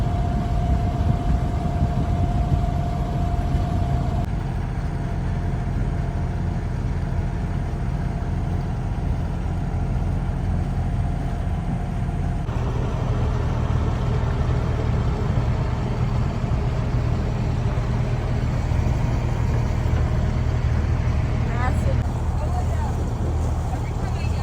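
A sailboat's engine drones steadily while underway on a river channel near the ocean, a continuous low rumble with a few shifts in tone, running under intermittent talk.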